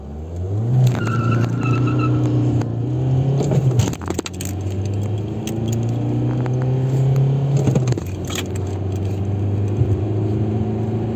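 A stock VW Golf IV accelerates hard from standstill, the engine note climbing steadily through the revs, dropping sharply at a gear change around four seconds and again near eight, then rising once more, loud and close from inside the car.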